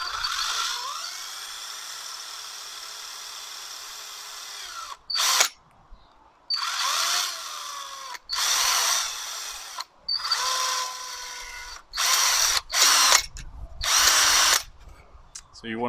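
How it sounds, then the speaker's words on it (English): A small power drill bores holes in a plush skin, whining in repeated short bursts: one long run followed by several stop-start passes separated by quiet gaps, close and fairly loud. "just take your time and carefully, tediously drill all these holes out"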